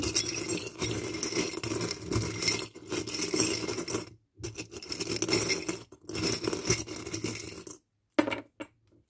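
Small metal charms tumbled and mixed together by hand for a charm-casting reading, giving a near, continuous clinking jangle in several bursts separated by brief pauses.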